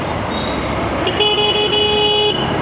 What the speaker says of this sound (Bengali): এটার হর্নটা একটু যদি আর একটু ভালো হতো